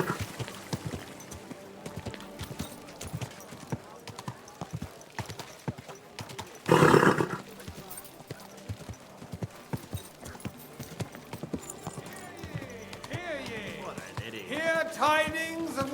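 Horse hooves clip-clop steadily in the medieval video game Kingdom Come: Deliverance 2, a continuous walking rhythm under spoken dialogue, with a brief louder burst midway.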